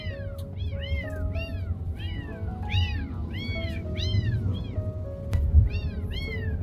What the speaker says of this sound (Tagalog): narinig ko yung mga pusa.